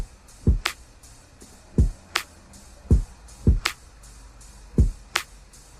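A dry, sparse drum loop with drum bus processing switched off: punchy kicks and crisp snare hits in a steady groove, with thin transients and little body.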